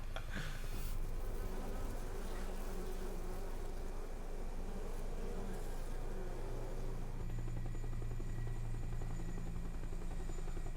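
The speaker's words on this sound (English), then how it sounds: "Hornets." A swarm of hornets in the video game Metal Gear Solid Delta: Snake Eater gives off a loud, continuous buzzing drone that never lets up, with no voices over it.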